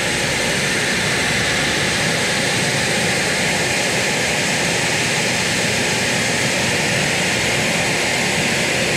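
A shop vacuum roars loudly and steadily while a large drill bit bores a hole in a fiberglass Coosa board boat, the motor's continuous whine dominating with no breaks.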